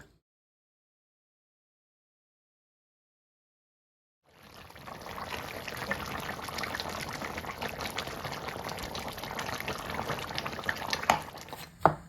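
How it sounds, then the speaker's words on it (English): Rice is washed under running water in a kitchen: after about four seconds of silence, water pours and splashes steadily, with faint clinks near the end. "I wash my rice till the water is crystal clear."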